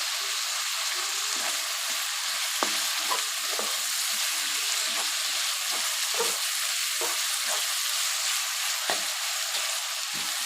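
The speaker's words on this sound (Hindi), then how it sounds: "प्याज मैंने डाल दिया हुआ है और मीडियम आंच पे इसे ट्रांसपेरेंट कर लूँगी" Onions frying in a pan over medium heat, cooked just until translucent, give a steady close sizzle with occasional stirring scrapes and clicks scattered throughout.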